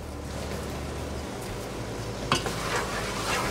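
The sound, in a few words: stirring sweet potato and green onions in a pan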